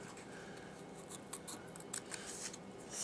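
Small petals are snipped by hand from pink cardstock with scissors, a faint, close run of quick crisp cuts over a quiet background.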